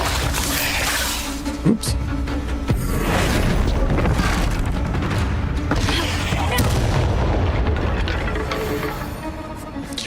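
Bombarda spell explosions in the Hogwarts Legacy video game, heavy booming blasts and crashing debris over a dense rumble of combat, with a brief spoken word from the player.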